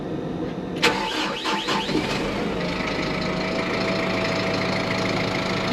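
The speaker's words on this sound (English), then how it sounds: "We're gonna crank it up and see if all is good" Tractor engine cranks with a few rapid starter whirs, catches near the one-second mark, and settles into a steady mid-pitched idle that runs on evenly, fairly close and moderately loud.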